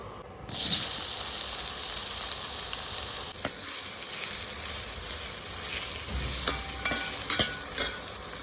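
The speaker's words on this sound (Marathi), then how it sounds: "सोयाबीन बारीक गॅसवर मस्तपैकी त्याला फ्राय करत थोडंसं तेलामध्ये ठेवलेलं आहे" Soybeans with a pinch of turmeric fry in a little oil over a low gas flame, giving a steady close sizzle with a few light clicks of stirring near the end, no voices.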